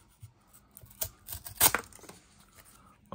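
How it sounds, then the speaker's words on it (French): A Gerber Armbar Slimcut knife blade cutting a small piece of parcel cardboard, a series of short scraping tears building to one loud crunching rip, close up with no talk. "je me suis pris un petit bout de carton pour tester la lame"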